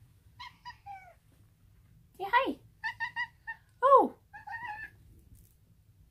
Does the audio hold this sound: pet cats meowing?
yes